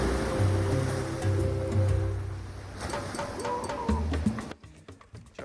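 North Sea waves washing onto a beach on the German island of Sylt, a steady surf wash with a distant low mooing or horn-like tone early on, then quieter near the end.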